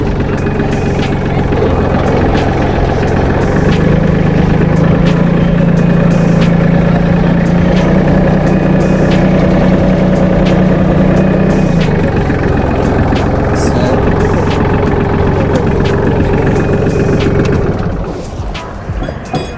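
A Solis 26+ compact tractor's engine runs steadily at a loud, close, rumbling idle for most of the clip, with a low droning hum throughout, before easing off and quieting near the end.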